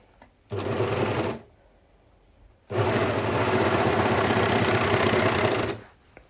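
A sewing machine stitches along the short edge of a dress, running in a short burst, pausing, then running again in a longer, steady whirring stretch before stopping.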